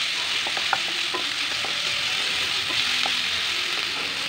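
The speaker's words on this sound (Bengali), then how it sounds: "আমি ভালো করে কষিয়ে নিচ্ছি মশলাটাকে" Whole garam masala (black and green cardamom and cinnamon) sizzles steadily in hot oil with ginger, garlic and bay leaf, with soft clicks and scrapes from stirring in the pan throughout.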